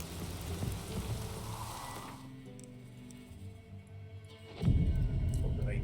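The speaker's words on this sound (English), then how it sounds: "Hope the rain passes by now." Steady rain hisses over a low rumble in The Witcher 3, thinning to a quieter patter, then a deep thunder crash swells near the end.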